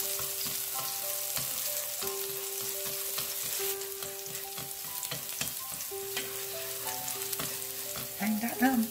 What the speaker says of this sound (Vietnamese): Mỡ nóng các bạn cho hành tím băm.